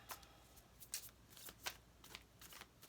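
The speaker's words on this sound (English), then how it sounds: "Let's see how these cards shuffle." A deck of new tarot cards is shuffled close by in quiet, quick riffling bursts, several short flutters in a row with no talking.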